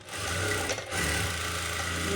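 A sewing machine stitches a blouse in a steady, fast mechanical whir, close and continuous, with a brief pause near the middle before the rapid stitching resumes.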